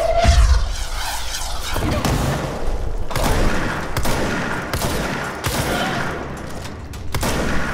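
A launcher weapon fires in the game Control, heavy booming blasts and thuds over a steady rumble of combat noise, loud and sustained, with repeated sharp impacts spaced through the passage.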